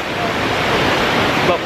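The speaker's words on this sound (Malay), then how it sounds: "Ada air terjun, babe." A waterfall pours in the rain, a dense, steady rush of water filling the scene at moderate loudness with no break.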